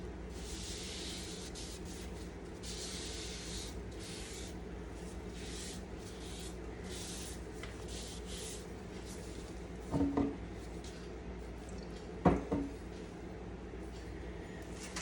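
Soft, steady rubbing as a cloth wipes shellac onto a turned Bradford pear wood bowl, a low continuous hiss broken by a couple of brief knocks near the end, with no talking.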